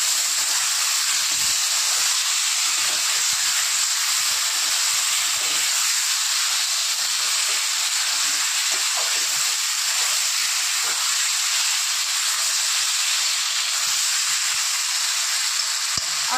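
Ginger, onion and garlic paste sizzles steadily in a hot frying pan while a katla fish curry is cooked, a loud, continuous bright hiss with no talking.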